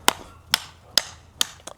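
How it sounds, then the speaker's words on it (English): A hammer is driven through an old, sun-dried seasoned stick with a Wilderness Warrior Gen 2 tool, making five sharp, close, woody strikes at roughly half-second intervals, the last two quicker together. "Look at that, hammer through it."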